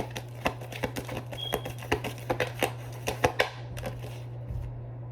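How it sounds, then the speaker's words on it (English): Oracle cards are shuffled and pulled by hand, giving a close run of crisp papery snaps and riffles in an uneven rhythm over a low steady hum, with no talking. "Let me pull some of these oracle cards for y'all, okay?"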